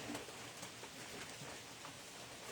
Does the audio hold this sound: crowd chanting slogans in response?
no